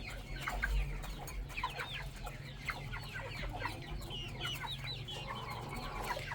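Chickens cluck steadily on a farm where young chicks are being fed mixed grain, with repeated overlapping clucks and chirps close by over a low, constant background hum, and no talking.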